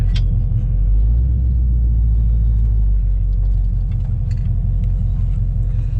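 A 1968 Charger with a swapped-in 5.7 Hemi does a one-wheel peel, producing a loud, steady, close engine rumble with a heavy low drone that holds throughout, with no voices.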